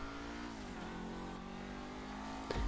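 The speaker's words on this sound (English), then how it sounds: "this car really does sound beautiful, especially from the inside" A Seven-70 car engine in GTA V hums steadily with harmonic drone, revving slightly, then a brief louder burst near the end; loud and continuous with no talking.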